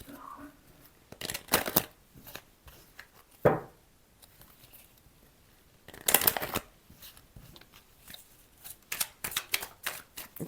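Oracle cards being shuffled by hand, several bursts of crisp riffling and flicking separated by quieter handling, close and fairly loud, with no talking.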